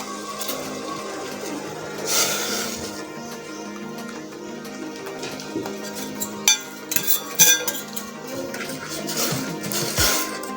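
A spoon stirs ragi batter into boiling water in a pot, with soft scraping and scattered light clinks against the metal under a steady background hiss.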